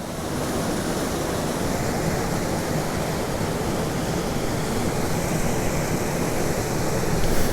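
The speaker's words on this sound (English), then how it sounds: "I was not expecting big waterfalls in this creek at all." Big waterfall pouring into a creek, a steady, loud, broadband roar of falling water that holds constant throughout with no voices.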